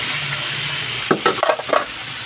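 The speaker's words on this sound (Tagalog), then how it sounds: "halukayin ta muna ang hipon" Shrimp frying in a pan give a constant bright sizzle as a utensil stirs them, adding a few clinks and scrapes against the metal near the end.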